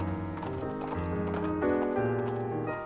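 Steady clip-clop of horse hooves in an even walking rhythm in the video game Sims FreePlay, set against a continuous musical backdrop with a faint whinny-like tone.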